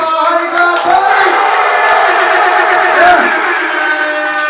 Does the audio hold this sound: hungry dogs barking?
no